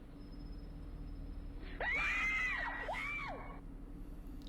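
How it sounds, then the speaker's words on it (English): A high-pitched scream rises and falls in two sweeping wavering bursts over a quiet background hum, heard at moderate distance from a played video, with no talking. "That's a nice Michael Jackson scream right there."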